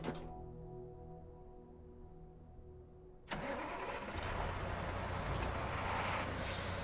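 Truck engine in the video game SnowRunner, backing up with a dolly trailer: a steady low idle hum cuts into a louder, rougher engine roar partway through, droning on alone.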